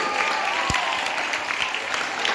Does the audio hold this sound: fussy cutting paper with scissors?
no